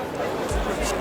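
Crowd chatter from a large gathering of tourists in Prague waiting beneath the cuckoo clock, a dense blur of many overlapping voices, close and steady for a brief moment.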